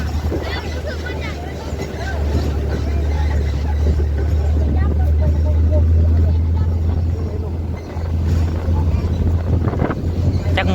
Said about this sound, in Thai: พังเสียงลมนะพวก